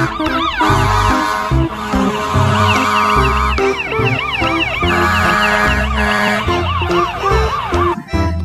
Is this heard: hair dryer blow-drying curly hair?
no